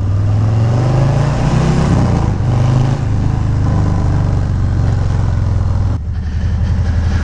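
Continuous loud engine drone of a Harley-Davidson motorcycle being ridden, with a steady low rumble and a brief drop in revs near the end.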